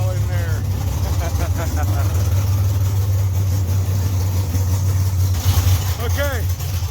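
A Mopar 340 W2 V8 with a tunnel ram intake and a rowdy roller cam runs steadily and loud, a deep rumbling idle filling an enclosed shop, while people's voices come through over it.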